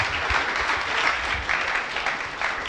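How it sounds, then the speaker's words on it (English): Audience at a startup accelerator event applauding two speakers, a steady, moderately loud patter of many hands clapping for a few seconds with no talk. "A big round of applause for the couple of them"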